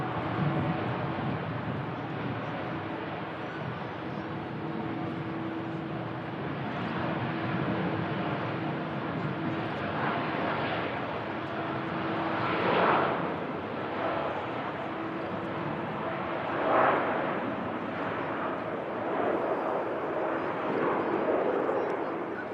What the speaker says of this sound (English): Juneyao Juneyao on the takeoff roll.